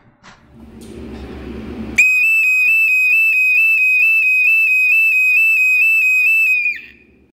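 A Brubeki siren sounds as a loud, steady electronic tone held for about five seconds, then cuts off abruptly, preceded by a brief rustling handling noise.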